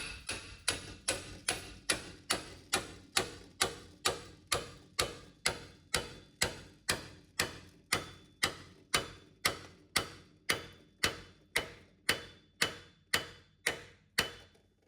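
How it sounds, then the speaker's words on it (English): Repeated metal hammer blows drive a pickle fork into a joint on a Saturn Vue's front suspension, landing in an even rhythm, about two per second, each a sharp ringing strike, close and steady with no talking. "just gonna go ahead and hammer it in there."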